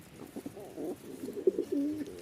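A pair of Jacobin pigeons coo in low, soft, rolling calls that repeat closely at near range, heard alone in a quiet setting.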